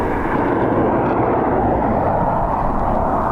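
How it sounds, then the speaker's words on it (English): A KLM Boeing 737 from Amsterdam moves at windy Dublin Airport, a loud, dense jet roar that stays even and continuous throughout, with no voices over it. "KLM 737 from Amsterdam."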